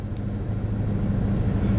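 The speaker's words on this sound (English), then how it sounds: "it gives it a boost, and then you hear that little boost" A car engine fitted with a homemade fuel vaporizer runs steadily up close, a constant low rumble that swells slightly as it gets a small boost.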